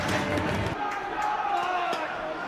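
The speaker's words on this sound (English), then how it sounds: "Home crowd are loving this." A home rugby crowd cheers in a stadium during a match, a loud, steady roar of many voices filling the whole moment, with a commentator speaking over it.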